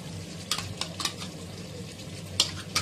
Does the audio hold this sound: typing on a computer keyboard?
no